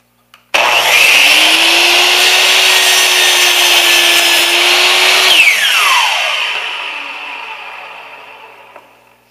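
Hitachi C10FCE2 miter saw slicing through wooden crown molding set against the right fence: a loud motor whine spins up, the blade bites for about five seconds, then the motor winds down and fades out, alone and close.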